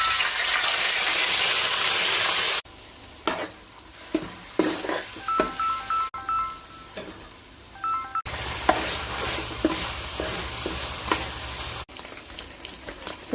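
Vegetables for a curry sizzle in hot oil in a pan, with a loud steady hiss at first, then spoon scrapes and clacks against the pan over a softer frying crackle. The sound is broken by abrupt cuts between short takes.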